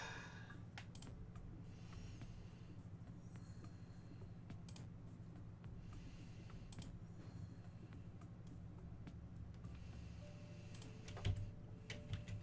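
Steady computer keyboard typing during a Forager gaming session, a faint run of quick irregular key clicks over a low constant hum, ending in a few louder taps, no talk.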